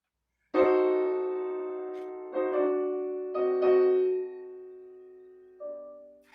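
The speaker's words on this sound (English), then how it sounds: "But now he uses those intense diminished seventh chords underneath" Diminished seventh piano chords struck one after another, ringing and decaying, with a softer, higher chord closing the phrase.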